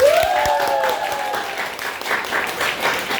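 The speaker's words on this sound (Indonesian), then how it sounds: "Tepuk tangan untuk kita semua dulu." Applause from a group of students in a school counselling session, a broad steady clapping that runs throughout, with a brief whooping or cheering voice at the start.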